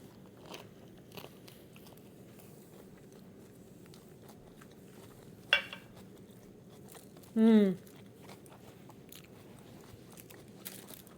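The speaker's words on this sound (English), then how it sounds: "I'm going to dip this in our peanut sriracha sauce and give this a taste" Someone bites into a shrimp summer roll filled with lettuce, mint and vegetables and dipped in peanut sriracha sauce; a single soft, close crunch in a quiet room, followed by faint chewing and a brief hummed voice sound.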